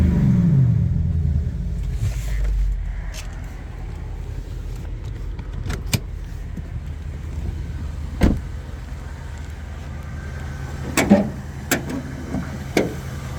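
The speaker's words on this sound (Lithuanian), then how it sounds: "Ką, variklis dirba gražiai." A Mercedes-Benz GL450 engine runs with a low rumble that is strongest at first, then settles into a quiet, steady idle broken by several sharp clicks nearby.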